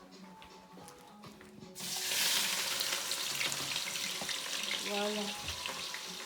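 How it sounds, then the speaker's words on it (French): Onions going into a hot pan for a Congolese-style malangwa fish dish, a sudden loud sizzle that rises and holds steady, with a brief spoken word over it and faint clinks. "on va mettre des oignons. Voilà, là, notre oignon, il est là. On va le mettre au feu."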